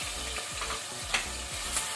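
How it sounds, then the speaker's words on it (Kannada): Ginger garlic paste fries in a pan on a low flame, giving a steady soft sizzle punctuated by a few sharp stirring scrapes, with no voices. "ಇದನ್ನು ಸಹ ಒಳ್ಳೆ ರೀತಿ ಫ್ರೈ ಮಾಡ್ಕೊಳ್ಳುವ."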